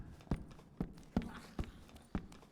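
Footsteps in the video game Dark and Darker: five evenly spaced, thudding steps at a steady walking pace, each a short sharp knock over a quiet background.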